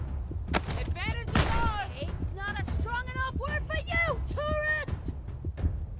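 Gunfire in The Walking Dead: Saints & Sinners, several sharp shots bursting out in the first half amid a loud game mix, with a voice talking and shouting over it.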